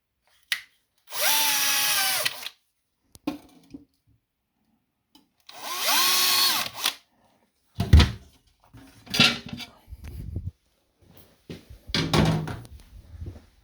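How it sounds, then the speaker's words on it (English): An electric drill whirs in two separate bursts while drilling holes to install a microwave bracket in a kitchen, rising and settling in pitch, followed by several knocks and clatters of handling wood or tools. "This time you put the drill bit in the middle."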